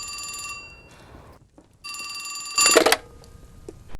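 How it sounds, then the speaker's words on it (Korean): An old telephone bell rings in two clear bursts with a short pause between, set in a 1928 jewellery shop in Jongno, Seoul. "전화벨이 울립니다."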